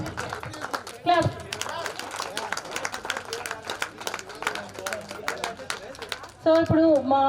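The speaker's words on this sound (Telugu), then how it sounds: "క్లాప్." A crowd claps at a get-together celebration, a dense run of sharp hand claps going on steadily throughout, with voices and chatter mixed in and louder talk breaking through near the start and end.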